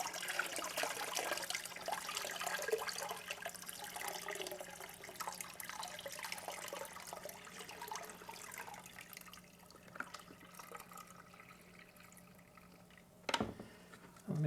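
Water and sediment poured out of a container from a drainage ditch while gold prospecting: a close, splashing, trickling pour that tapers off, with a sharp knock near the end and no talking.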